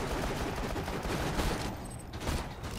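Rapid turret gunfire in the video game Borderlands 2, a dense, continuous burst of automatic shots that stays loud and busy throughout the short stretch.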